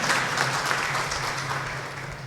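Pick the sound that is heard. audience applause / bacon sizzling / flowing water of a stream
audience applause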